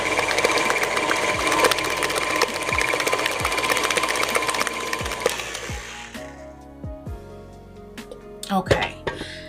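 An electric mixer beats cream cheese and pumpkin together with a loud, buzzing whir and a rhythmic ticking for about six seconds, then stops, leaving quieter kitchen handling noises and a voice talking.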